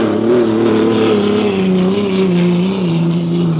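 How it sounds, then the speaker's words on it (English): Hydroplane racing boat engine accelerating during the 1964 Seafair time trials in Seattle, a loud, steady, droning roar whose pitch slides slightly as the boat runs, heard alone with no voices over it. "the boat's accelerating well"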